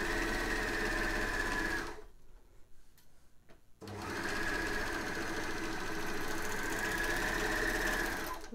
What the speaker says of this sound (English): I was moving the microphone away from the noise of the overlocker because it was starting to show up as being very noisy.